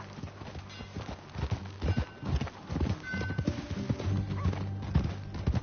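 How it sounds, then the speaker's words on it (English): Horse hooves clip-clop steadily in Red Dead Redemption 2, with a neigh or whinny breaking in over a low musical and ambient game background. "That new horse?"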